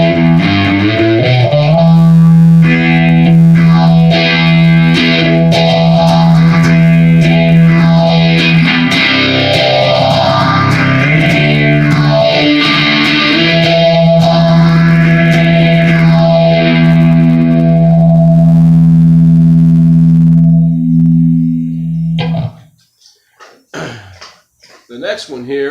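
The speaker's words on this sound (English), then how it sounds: "I took an existing preset and I added a phase to it, and it sounds like this. This is called Plexi Phase." Electric guitar through a Marshall Code 25 amp on a Plexi preset with phaser added, a loud distorted chord ringing for a long stretch while the sweeping phase effect swirls up and down, then a few choppy strums at the end.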